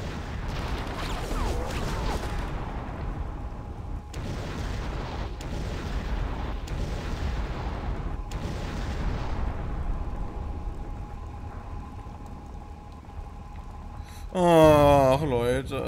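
Gunfire and bursts from Conker's Bad Fur Day, a series of sharp broadband shots at roughly one-to-two-second intervals over a steady game soundscape, followed by a loud burst near the end.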